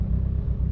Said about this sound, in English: Idle seems good, throttle seems good. Everything sounds smooth.